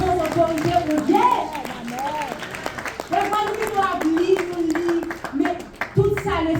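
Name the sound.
congregation clapping to acclaim God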